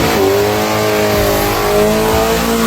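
Street-race cars rev hard at the starting line, a loud, close, continuous engine roar with rising pitch that dominates throughout, no voices audible.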